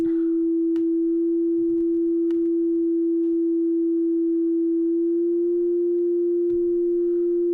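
Native Instruments FM8 software synthesizer holding one steady sustained tone whose pitch drifts slightly partway through, alone with only a few faint clicks.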